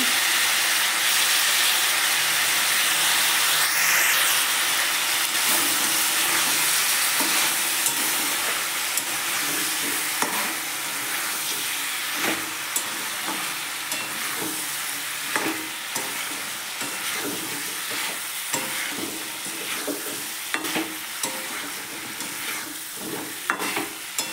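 Turmeric powder and spices fry and sizzle in a pan for chicken kosha, a steady loud hiss broken by frequent scraping stir strokes and clatters, with no talking.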